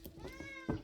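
A house cat meows once or twice nearby indoors, a short harmonic cry ending in a louder burst, heard alone without talk.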